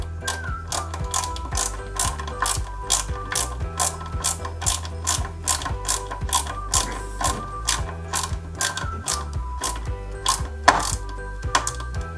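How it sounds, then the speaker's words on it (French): Assembly of a 1/8-scale Ford Gran Torino model car kit: a screw being driven in with a steady series of small rhythmic ratcheting clicks, close and distinct, continuing without pause. "On maintient le tout et on y met une vis LM côté droit."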